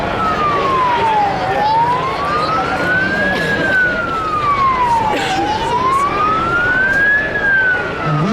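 An emergency vehicle siren wails at an outdoor emergency services day arena display, rising and falling in slow, steady sweeps, loud and close over a constant crowd and engine rumble.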